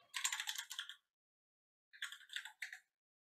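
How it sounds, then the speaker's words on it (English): Fingers type on a computer keyboard in two quick bursts of close, crisp key clicks separated by a second of silence. "So I'll just type out 8 chromosomes"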